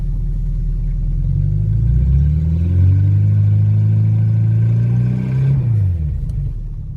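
A classic car with a 6-volt electrical system revs up as the gas pedal is pressed, a loud close engine rumble rising in pitch, holding, then dropping back toward idle near the end.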